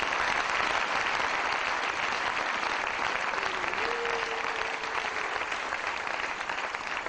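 A church congregation applauds to acclaim the Lord, steady sustained clapping filling the whole stretch with a brief voice or tone rising faintly underneath.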